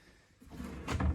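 Soft-close oak veneer drawers slide shut with a muffled, cushioned thud, a brief low rumble building to a soft close.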